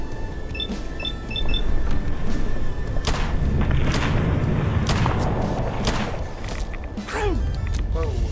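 Grenade blasts in the Fallout 4 video game: several heavy thuds and booms over a steady game backdrop, with scattered sharper crashes.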